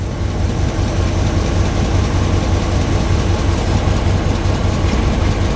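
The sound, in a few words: 1955 Plymouth Plaza engine running without muffler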